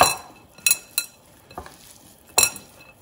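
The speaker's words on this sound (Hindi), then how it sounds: "इसको आप अच्छी तरह से मिक्स कर लें" Enchilada sauce being mixed in a bowl, a few separate sharp clinks and scrapes of a spoon against the bowl spaced irregularly over quiet background, close and fairly loud.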